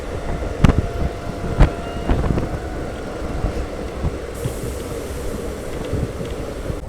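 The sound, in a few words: DEMU train running at speed after a station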